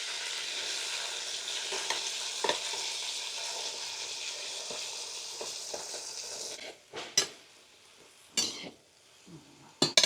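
Taro root (arbi) frying in mustard oil in a kadai, a loud continuous sizzle that cuts off abruptly, followed by scattered clinks and clatters of utensils against metal.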